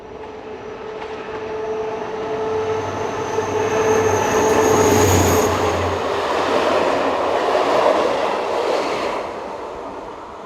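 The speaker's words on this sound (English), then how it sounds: "the daily Marseille to Clermont Ferrand service leaving Vic-le-Comte. behind locomotive number" A passenger train hauled by locomotive 67613 departs Vic-le-Comte on the daily Marseille to Clermont-Ferrand run: a rumbling engine drone and rolling wheels build to a loud peak mid-way, then ease slightly, with faint squealing tones above.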